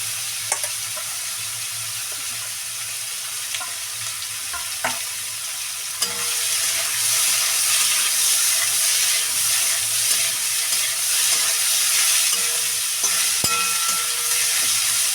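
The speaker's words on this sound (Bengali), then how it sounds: "দেখো জিরেটা কিন্তু লাল লাল করে ভাজা হয়ে গেছে এইবার দিয়ে দেবো সেই ওলকপি" Cut kohlrabi fries with cumin in a pan, a continuous close sizzle that grows louder and fuller about halfway through, with occasional scrapes and clinks of stirring.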